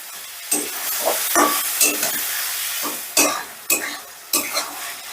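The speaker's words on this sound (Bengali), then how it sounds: "এবার এটাকে বেশ ভালো করে আমি কষিয়ে নেব যতক্ষণ না আদা রসুন পেঁয়াজ টমেটোরের কাঁচা গন্ধটা যাচ্ছে" Onion, ginger, garlic and tomato masala sautéing in a pan, a steady frying sizzle broken by repeated scraping stirs of a spoon, close and fairly loud with no talking.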